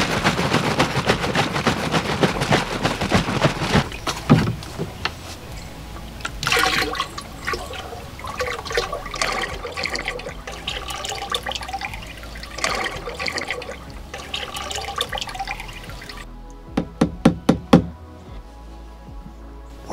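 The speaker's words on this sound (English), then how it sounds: "it's time to add the liquid calcium" Liquid calcium pours from 2.5-gallon jugs into a sprayer tank for deer habitat, a steady gushing, splashing water sound throughout, with a few sharp knocks near the end.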